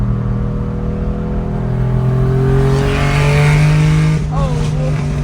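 Loud, sustained engine roar of an RWB-modified Porsche 993 revving hard while driving, heard from inside the cabin, with rising and falling pitch and people talking over it.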